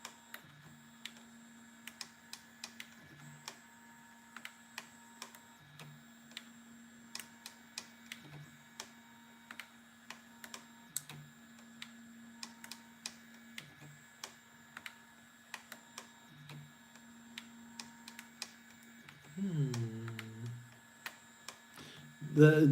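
An Easythreed X1 3D printer prints a Banshee model, its stepper motors giving a steady hum with regular clicks and ticks that repeat every couple of seconds, close and moderately quiet, with a brief louder burst of movement near the end.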